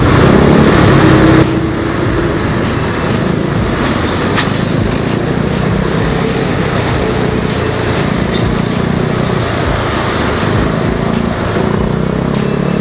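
Busy road traffic surrounds a Yamaha Mio Sporty motorcycle heading for Gilmore Avenue, a steady loud wash of car and motorcycle engines rumbling throughout with passing vehicles and no voices.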